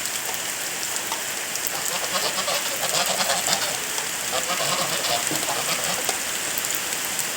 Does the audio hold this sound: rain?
yes